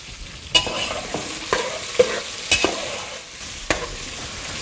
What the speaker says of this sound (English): we're just going to add this to our oil. Probably start sizzling. Hear that? It means the oil's ready.